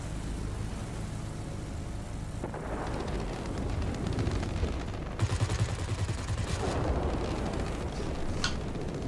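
Anti-aircraft gunfire rattles in the World of Warplanes video game, a continuous rumbling barrage of shots and blasts over a droning aircraft engine, swelling louder partway through.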